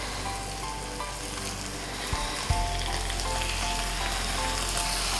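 Beef pieces with chilli flakes sauté in a hot pan for a spicy beef roast, giving a steady, close sizzle with a couple of sharp knocks partway through and no talking.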